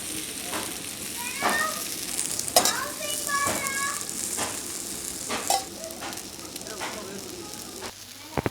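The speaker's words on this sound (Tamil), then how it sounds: "தோசைக்கல்லில் மீன் போட்டதுக்கப்புறம் கொஞ்சமாக எண்ணெய் சேர்த்துக்கலாம்." Fish frying in coconut oil on a dosa griddle, a steady crackling sizzle with intermittent utensil scrapes and clinks nearby, and a faint voice briefly in the background.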